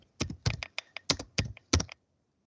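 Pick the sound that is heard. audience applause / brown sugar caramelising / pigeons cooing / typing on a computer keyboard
typing on a computer keyboard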